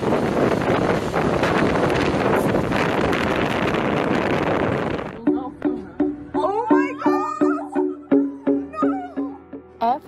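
Strong wind gusts roar and buffet the microphone on the Isle of Wight for about five seconds, a loud dense rush, and then stop abruptly as a voice begins talking.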